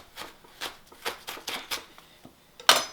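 Knife strokes chopping leeks on a cutting board, a steady series of about eight crisp, close cuts in an even rhythm, ending with a sharper clack.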